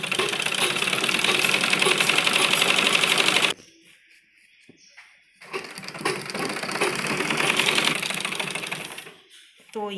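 A sewing machine stitches a men's kurta in two loud, rapid rattling runs split by a few seconds of quiet handling.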